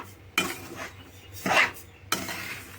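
Semolina and sugar are stirred in a pot for rava laddu, giving close scraping, clinking strokes of a spoon against the metal at a steady pace, three distinct sweeps with a soft gritty rustle between them.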